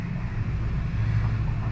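Wind blowing outside a 2021 Jayco Eagle 332CBOK camper makes a steady, fairly loud rushing and rumbling that holds constant throughout, with no talking.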